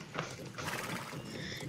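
A horse in the video game Star Stable Online, with hooves clip-clopping and a short whinny, close and steady over about two seconds with no talk.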